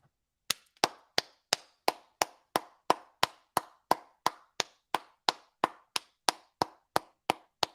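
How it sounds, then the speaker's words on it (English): Sharp claps repeat in a steady, evenly spaced rhythm, about twenty crisp strikes, each with a brief echo, fairly close and moderately loud. "Round of applause for Howie."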